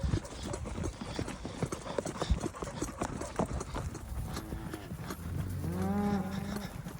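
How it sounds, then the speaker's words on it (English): Cattle shuffle and clatter with hooves on a metal cattle guard while calves are being shipped, and a cow gives a loud drawn-out moo near the end. "I don't know why they're just pushing on that cattle guard like that."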